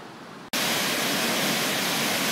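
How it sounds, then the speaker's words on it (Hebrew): Rain-swollen stream water in the upper Nahal Saar pours into a pool, a loud, steady rushing that cuts in abruptly after a brief quiet moment and continues without a break. "זרימת מים יפה מאוד לתוך הבריכה הזאת, ישר מהגשמים שירדו בלילות האחרונים."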